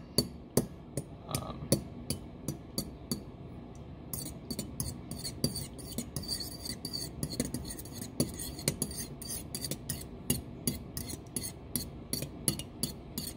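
A fork whisks eggs in a bowl in a skillet kitchen, making a rapid series of sharp metallic clicks and scrapes, close and fairly quiet, with no talking.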